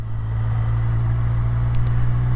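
A Triumph Speed Triple 1200 RS motorcycle engine hums steadily at low revs after the throttle is cut, a close, even drone with no talk.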